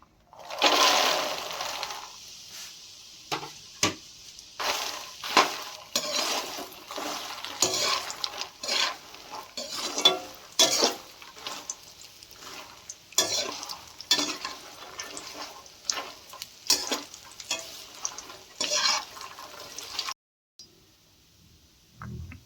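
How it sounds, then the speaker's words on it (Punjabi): Makhana (fox nuts) fry in ghee in a pan for panjiri while a ladle stirs, giving an irregular run of close scraping, clattering strokes over a soft sizzle, then stopping abruptly near the end. "ਹੁਣ ਫੁੱਲ ਮਖਾਣੇ ਨੂੰ ਫਰਾਈ ਕਰ ਲੈਣਾ ਵਾ"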